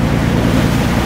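Steady low rumble of a boat motor on a trip in Croatia, with wind and water noise, continuous and fairly loud throughout.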